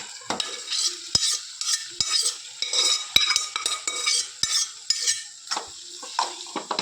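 Boiled beef is sautéed with onions and curry leaves in a pan, with irregular spatula scrapes and metallic clinks over a soft sizzle, close and busy, no voices.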